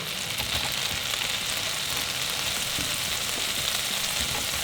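Bread frying in a pan with garlic, an even, dense sizzle that holds steady throughout, close up, with no stirring breaks and no talking.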